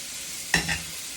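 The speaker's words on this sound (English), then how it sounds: "You're going to sear that again, because you're just searing it." Wagyu filet sears in a hot pan with a faint steady sizzle, broken by two brief louder scraping or shifting sounds as the meat is moved.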